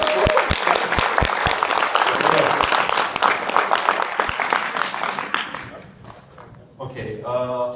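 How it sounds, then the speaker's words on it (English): A conference crowd at Codecamp 2018 in Cluj-Napoca claps as hard as they can, loud, dense applause with sharp hand claps that fades after about five seconds before a voice starts talking. "let's make a lot of noise, clap as hard as you can"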